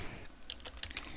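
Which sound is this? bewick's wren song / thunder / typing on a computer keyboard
typing on a computer keyboard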